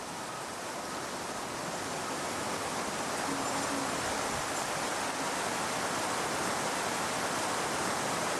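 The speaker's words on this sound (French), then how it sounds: "Au loin grondent les cascades du déversoir du lac de Phoksundo," Distant waterfalls of the Phoksundo lake spillway in Nepal roar as a steady, dense wash of falling water, unbroken and even throughout.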